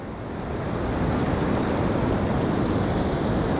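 Strong, steady wind buffeting the microphone on 90 Mile Beach at the top of New Zealand, a broad roaring rush that swells and holds, mixed with surf noise and no voices.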